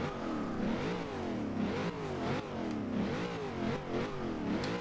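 A 2014 Chevrolet Corvette Stingray in Forza Horizon 2 revs repeatedly, engine pitch climbing and falling in steady cycles with faint turbo spooling and whooshing as the throttle lifts, loud and close with no talking.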